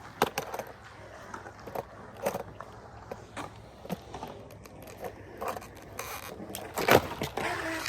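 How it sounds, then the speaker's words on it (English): Skateboard axle stalls on coping at a skate park: scattered wheel rolls, gritty scrapes and sharp clacks of trucks hitting metal, with a louder grinding scrape near the end, all fairly faint and outdoors. "Next, I tried some axle stalls."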